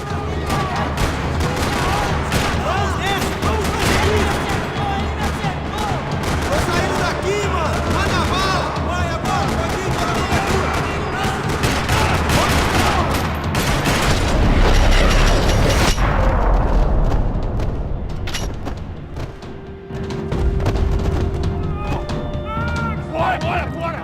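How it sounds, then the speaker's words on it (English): Rapid bursts of gunfire in Max Payne 3 rattle almost continuously across a parking lot, mixed with booms and mechanical clatter, loud and dense before thinning out near the end. "Another parking lot rattling with gunfire."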